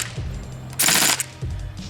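Daytona M246/MK.46 airsoft gun, a gas-blowback/HPA support weapon with a heavy aluminum bolt cycling, fires a short rapid burst of about half a second, loud and close, between quieter mechanical handling noises.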